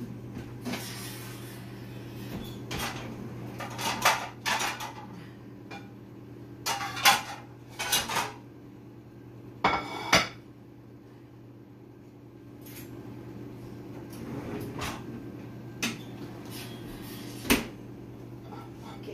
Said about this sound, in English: I better get a plate out and get ready to serve up some of this.